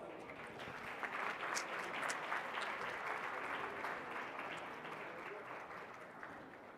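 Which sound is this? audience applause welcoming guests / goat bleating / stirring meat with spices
audience applause welcoming guests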